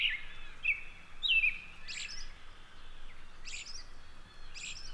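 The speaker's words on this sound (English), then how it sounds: "Robins are common birds, but they really do have an intricate and beautiful song." An American robin sings outdoors, a series of clear, bright warbled phrases spaced about a second apart, moderately distant over a quiet background hiss.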